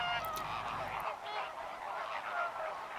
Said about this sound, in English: Greater flamingos, a species of migratory birds.